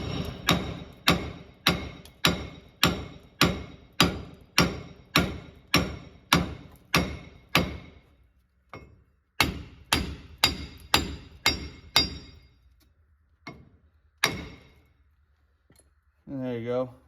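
A big hammer pounds the wheel hub out of a 2011 Chevy Silverado, with a long run of loud, rapid, evenly paced metallic blows close by, a short pause, another burst of strikes, then a few scattered knocks and a brief voice.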